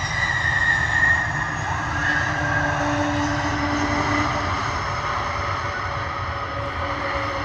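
A DHL Airbus A300 cargo plane lands, its engines producing a steady, loud, continuous roar with whining tones throughout and no talking.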